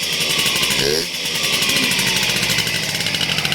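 A rebuilt Honda Dio scooter engine with a new crankshaft bearing, piston and engine bushing idles steadily up close, a loud continuous mechanical buzz with rapid regular pulsing and a brief dip near the one-second mark.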